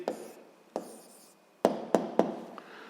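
A pen scratches an answer onto paper during a 7th-grade physics exercise, in several distinct close strokes separated by brief pauses.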